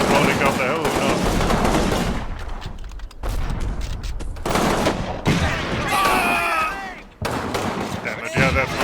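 Grenade blasts and gunfire in the WWII strategy game Combat Mission Rome to Victory, as bursts of rattling small-arms fire and thuds come in separate clusters with quieter gaps, while someone talks over them.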